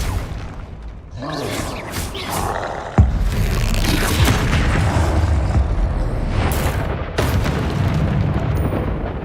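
A Confringo spell explosion in Hogwarts Legacy goes off as a loud, sudden boom, followed by a sustained rumbling blast that fills the rest of the moment, with no speech over it.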